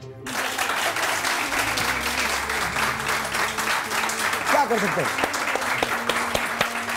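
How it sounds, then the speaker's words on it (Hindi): A studio audience on a morning TV talk show breaks into steady, busy applause that runs throughout, with a brief spoken line and some studio tones under the clapping. "तालियां बजाइए।"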